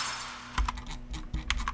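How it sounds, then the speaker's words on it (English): A glass-break sound effect in a music remix, a short run of bright crisp shattering clinks spread over under two seconds, heard alone with no voices. "and this glass break."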